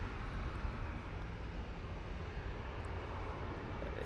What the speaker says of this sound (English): This Jet2 is going to take a left turn down a bit to Alpha.